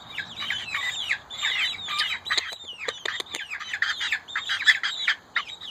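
Chickens squawking and clucking on a farm, a busy run of close, repeated harsh calls with chirps mixed in, no voices.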